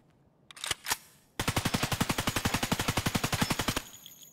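A weapon in Escape From Tarkov fires a couple of single shots and then a long, rapid, evenly spaced automatic burst of about thirty rounds before stopping abruptly, with no voices over it.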